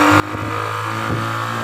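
A motorcycle engine on a steep, winding mountain road runs at a steady mid-pitched drone after a brief louder burst at the start, held fairly close for the whole stretch with no talking.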